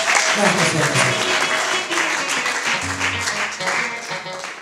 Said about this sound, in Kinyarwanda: reka tubikomere amashyi menshi